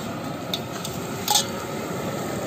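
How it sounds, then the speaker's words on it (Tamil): Cut buns dropped into hot oil in a pan and fried for bun biryani, giving a steady soft sizzle and bubbling with a couple of brief louder splashes and clinks, no talking. "இப்ப நம்ம நறுக்கி வச்சிருக்கிற பண்ணை எடுத்து போட்டு நல்லா பொரிச்சு எடுத்துக்கலாம்."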